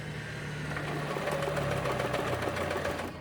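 An Elna 2006 sewing machine runs steadily on its foot switch for a few seconds, making a continuous close whirring hum with a fast mechanical stitching rattle.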